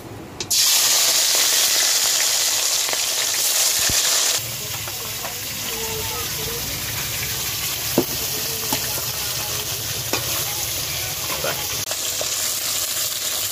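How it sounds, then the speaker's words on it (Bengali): Fish is dropped into hot oil and fries with a loud, steady sizzle that roars at first, then settles into a constant hiss with a few clinks, in a village kitchen. "তেল গরম হয়ে গেছে, আমি মাছটা দেবো।"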